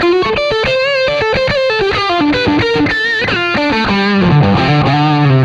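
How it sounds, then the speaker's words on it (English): Gritty, raspy fuzz-drive guitar tone through a Line 6 drive modeled on a Tone Bender, playing a short melodic run of single notes and bends, loud and upfront with no speech. "Which is like a tone bender, which sounds pretty good to me."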